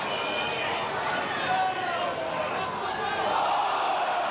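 Rugby league crowd at Sheffield Eagles versus Leeds in 1990 raising a loud, sustained shout at a forward pass, a dense roar of massed voices from the stands.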